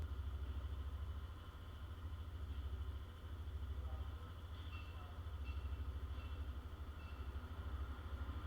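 A brand-new Yamaha NMAX 155 scooter in sword grey idles steadily nearby, its low engine hum running continuously with slight pulsing and no talk over it.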